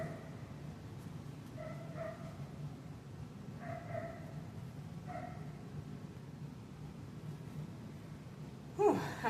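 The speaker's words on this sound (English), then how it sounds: "I have puppies, and they were demanding my attention." Several puppies bark and yip in short bursts at moderate distance, with three or four clusters of barks spread over steady room noise and a brief louder knock near the end.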